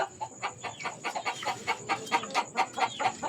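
Gamefowl hens and stags clucking in a run of short, close, fairly soft calls, about a dozen in quick uneven rhythm with a steady background hiss.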